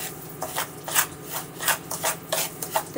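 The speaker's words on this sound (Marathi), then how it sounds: "याला छानपैकी असं मिक्स करून घेऊ। तेल यासाठी टाकायचं आहे की छान असं खुसखुशीतपणा यावा" Hands rub and knead samosa dough mixed with oil, a soft rhythmic rustling and squishing in close, even strokes repeating every half second or so, with no talking.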